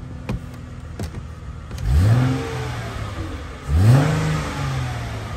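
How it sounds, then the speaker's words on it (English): A 2008 Chrysler Crossfire convertible engine idles steadily outside the car, then is revved twice in quick succession, each blip rising loudly and settling back to a smooth idle, with a few clicks early on. "Good sounding engine."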